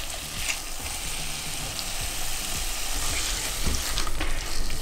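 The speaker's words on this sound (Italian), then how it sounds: "Versiamo i nostri fusilli nella pentola e mescoliamo un pochino" Fusilli pasta is stirred in a cooking pot, giving a steady sizzling, scraping texture with soft knocks of the spoon throughout, close and fairly loud, with no talking.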